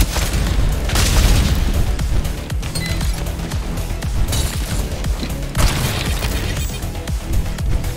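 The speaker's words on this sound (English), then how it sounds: "Your freaking grenade, wasn't it?" Explosions and gunfire in a shooter video game, with heavy booming blasts, a dense rattle of shots and crashing debris at close range, continuing for several seconds.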